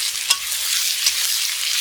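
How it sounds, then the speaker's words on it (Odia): Onions frying with whole spices in a pan over a wood-fired stove for mutton and potato curry: a loud, steady close sizzle with two brief spatula scrapes, no voices. "ଦେଖନ୍ତୁ ପିଆଜକୁ ପୁରା ଭଲ କରି ଭାଜିବେ।"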